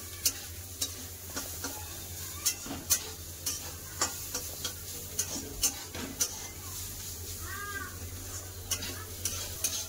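A utensil stirs snake gourd frying with poppy seeds in a pan, making regular scraping taps over a faint, steady sizzle, quiet and close.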